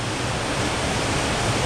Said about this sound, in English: just the lower part of the waterfall